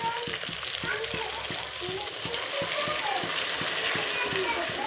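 Water poured into a sizzling curry in a pan sets off loud frying and bubbling, with rhythmic gurgles and stirring close by as someone speaks over it.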